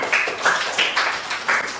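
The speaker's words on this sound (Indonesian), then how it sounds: "Tepuk tangan untuk semua" Schoolchildren in a classroom applaud together, a moderately loud round of claps arriving in short regular bursts, with no voices heard.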